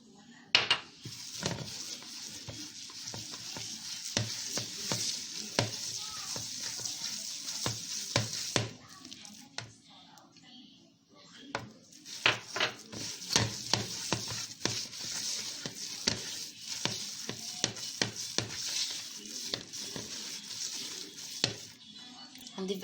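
Batter for Egyptian basbousa being stirred in a bowl as flour goes in bit by bit, with repeated scraping and clinking of a utensil against the dish, irregular strokes close by, briefly pausing midway before resuming.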